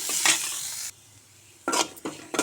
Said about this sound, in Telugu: ఇందులో కొంచెం జీలకర్ర, అల్లం ముక్కలు వేసుకుని ఇవి కూడా మంచిగా వేయించుకొని తీయాలి